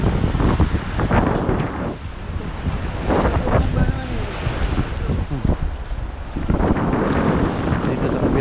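Strong wind buffets the microphone at a beach as heavy surf crashes and rolls in repeatedly, with a voice talking intermittently over the roar.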